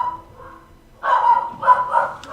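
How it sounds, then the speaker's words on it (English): A dog barks in short, loud bursts in the background indoors, with two clusters of yaps after a quieter opening moment during a gaming session. "Sorry, I hope my dog barking in the background isn't too loud."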